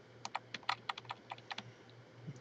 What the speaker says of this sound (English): Now we use our arrow keys, and we will go up tippy top here.